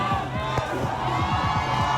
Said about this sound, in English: Huge crowd walking very quickly on Hackett Avenue, east side of Milwaukee.